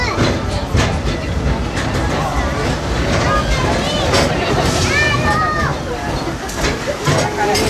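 The Walt Disney World Railroad train ride through Magic Kingdom, recorded in 2013, rumbles and clatters steadily on its track. A couple of brief whistle-like tones sound midway, under continuous passenger chatter.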